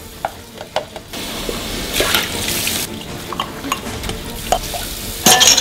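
Dishes are washed under running tap water in a sink, with gushing water bursts, clinks of crockery and splashing scrubbing sounds coming in uneven spurts close by.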